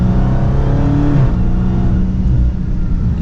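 A Dodge Charger SRT Hellcat Widebody Jailbreak sedan accelerates, a loud, close, sustained engine and exhaust drone with supercharger whine rising in pitch, alone without talk.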